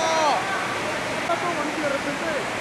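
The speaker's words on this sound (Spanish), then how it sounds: "Con una tromba que llega de pronto y hace que todos salgan corriendo" Heavy rain from a sudden downpour at the end of the Río Fest in Colima hisses as a dense, steady wash, with faint voices and whistles in the background.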